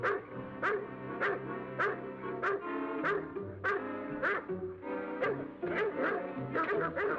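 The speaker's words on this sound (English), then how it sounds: "Hear those dogs?" Several dogs bark repeatedly in a rapid, uneven rhythm, the yaps and bow-wows overlapping at moderate distance with no talk.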